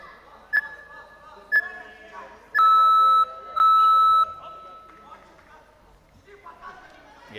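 A round timer buzzer sounds at a youth MMA championship bout, two long, loud steady electronic blasts following two short beeps, ringing over crowd noise and commentary.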